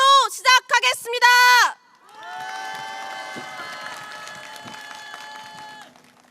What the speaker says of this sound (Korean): 동지들의 뜨거운 박수와 함성으로 시작하겠습니다